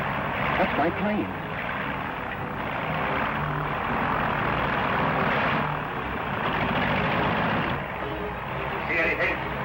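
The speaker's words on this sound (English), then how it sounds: "That's my plane." A propeller airplane drones overhead in an old western setting, a steady moderate engine rumble that rises and falls gently over about ten seconds, with voices talking over it.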